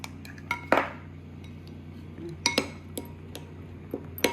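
Seasoning and black pepper are mixed in a bowl, giving scattered metallic clinks and taps of a utensil against the dish with short pauses between strikes, close and moderately loud.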